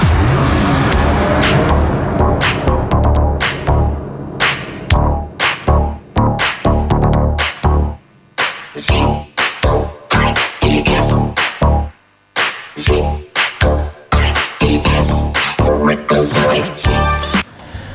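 A car engine revs hard and repeatedly with loud roaring bursts, choppy cut-offs and brief gaps, close and dominant for the whole stretch.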